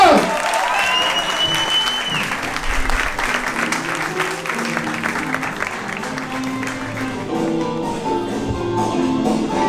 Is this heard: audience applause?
yes